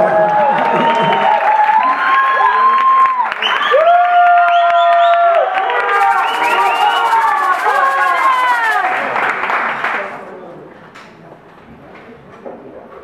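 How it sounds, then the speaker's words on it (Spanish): A kizomba dance audience cheers for dancers Julio and Pablo with loud whoops, shouts and clapping. Voices rise and fall over the applause for about ten seconds before the noise drops away to quieter, scattered sounds. "Julio y Pablo, fuerte el aplauso"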